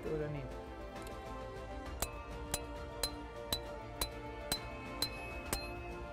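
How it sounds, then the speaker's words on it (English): A steel angle piton hammered into a rock crack: about nine sharp, ringing metallic strikes in a steady rhythm, each with a bright clinking tone, close and distinct over faint background. "Then you start hammering, and you'll notice right away if it wobbles."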